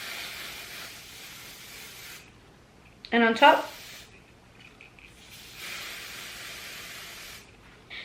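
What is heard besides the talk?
hairspray being sprayed onto hair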